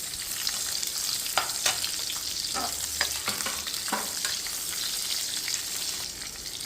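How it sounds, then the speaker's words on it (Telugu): Onions, ginger and tomatoes fry in a pan for a dhaba-style cashew paneer masala, with a steady close sizzle. Several sharp stirring scrapes and taps punctuate it in the first few seconds. "ఉల్లిపాయలు, అల్లము, టమాటాలు ఇవన్నీ వేపుకుందాం మనం"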